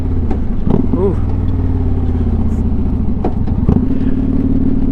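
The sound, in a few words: motorcycle engine downshifting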